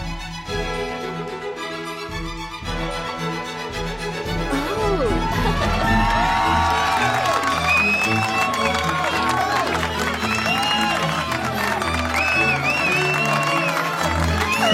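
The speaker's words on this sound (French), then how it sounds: "Ils dansèrent avec brio, s'attirant les acclamations de tous." A crowd cheers, shouts and applauds a ballet dance performance at a dance competition, swelling from a quieter start into loud, sustained whoops and excited voices over clapping, with music underneath.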